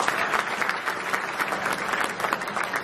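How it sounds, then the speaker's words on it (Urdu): Sustained applause from an audience at a city political gathering, dense steady clapping from many hands throughout, fairly close and even in loudness with no speech. "زوردار تالیاں"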